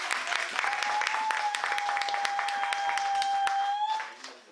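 A church congregation at a family worship service applauds and cheers for Jesus, with steady dense clapping and a sustained voice or tone held over it, fading at the end.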